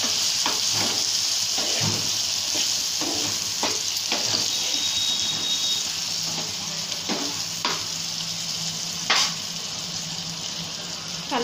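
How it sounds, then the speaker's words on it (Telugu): Tomatoes stirred into a sizzling frying pan, the spatula scraping and tapping in irregular strokes over a continuous hiss of frying. "టమాటా వేసుకొని కలుపుకోవాలి"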